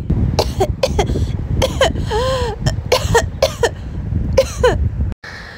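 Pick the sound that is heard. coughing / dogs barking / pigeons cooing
coughing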